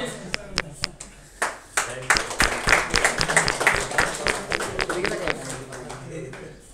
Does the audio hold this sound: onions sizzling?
no